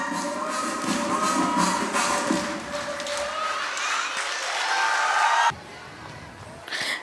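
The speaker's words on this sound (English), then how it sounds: "Parents, please clap." Parents applauding at a pre-primary school annual gathering, a broad wash of crowd clapping with scattered cheers that runs steadily for several seconds, then stops abruptly into near quiet before a brief return.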